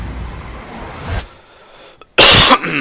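A single sharp, loud cough bursts out near the end, after a quieter stretch and a faint earlier sound, with no speech around it.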